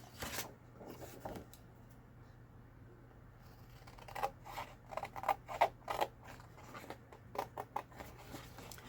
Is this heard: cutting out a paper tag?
yes